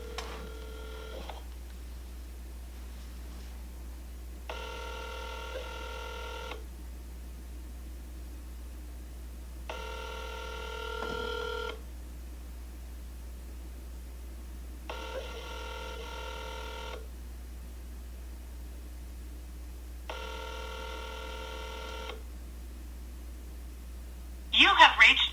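Phone line ringing out on an outgoing call, five evenly spaced ring tones with pauses between, faint over a low hum, ending with a short louder burst.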